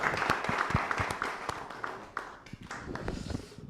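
Sparse, scattered clapping from a small audience at a university presidents' summit dinner as the National Assembly speaker is welcomed, faint and uneven, with individual claps standing out rather than forming a full ovation.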